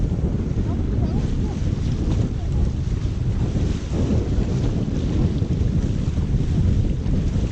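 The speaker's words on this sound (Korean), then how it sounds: "바람이 장난 아니네 진짜" Strong typhoon wind buffets the microphone on a fishing boat off New Zealand, producing a loud, constant low roar and rumble with waves and water noise beneath it, no clear speech.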